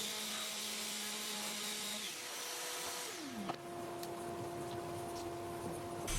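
Orbital sander shaping pieces of sapele wood for a gate, a steady, loud whirring drone with sustained tonal hum that continues throughout, shifting pitch slightly partway as the pressure on the workpiece changes.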